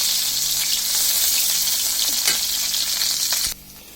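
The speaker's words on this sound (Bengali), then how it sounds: "এখন আমি পেঁয়াজ কুচিগুলো আগে দিয়ে দিব" Chopped onions sizzling in hot oil in a pan, a loud, bright frying crackle with a few stirring strokes, then abruptly dropping to a quiet hiss near the end, no voices.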